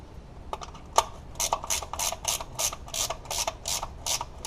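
A 14 mm wrench with a ratcheting action loosens the oil drain plug on a turbocharged MK6 GTI. A quick run of faint, close clicks ticks along steadily.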